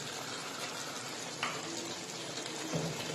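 Mutton pieces fry in a pan as ground spices are added, giving a steady, close sizzle with a few scraping stirs near the end.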